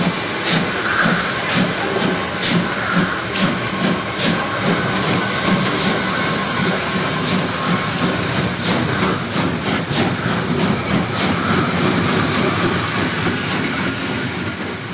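A train rolls past close by just outside the station near Obermarchtal Abbey, Germany, wheels clacking rhythmically over rail joints amid a steady hiss and rumble that lasts throughout.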